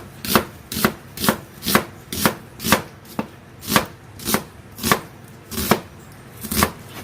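A sharp knife chopping an onion on a cutting board, about a dozen crisp, evenly spaced cuts in a steady rhythm, close and clear with no talking.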